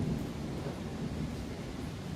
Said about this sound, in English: That was thunder. Yes. Rain is pouring down.